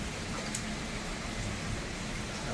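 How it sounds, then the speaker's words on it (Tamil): Heavy rain during Typhoon Danas in Taiwan, a steady dense hiss of downpour that stays loud and even throughout, with no voices. "Heavy rain."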